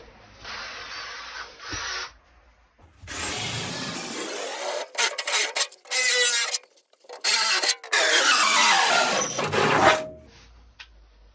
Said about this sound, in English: Now we need to drill 4 holes again